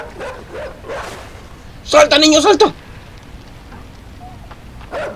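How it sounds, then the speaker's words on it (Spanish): A dog in the video game Inside barks while chasing a boy, a short burst of harsh barks amid rain-like ambience, with someone talking excitedly over the game audio. "¡El perro!"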